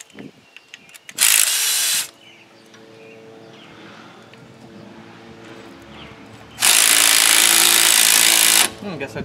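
A power tool torques a bolt on a 1969 Coronet fitted with a Dodge Hellcat engine, delivering two loud, close bursts of rattling impact separated by quieter shop noise and clinks, with brief talk nearby.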